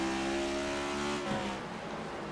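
A race car at Martinsville Speedway in a sim racing league, its engine holding a steady droning note before the pitch drops and the sound settles into a rougher rumble, as in a gear change.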